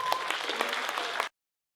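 An audience at a science stage show applauds for a horse, a dense close burst of clapping lasting about a second before stopping abruptly.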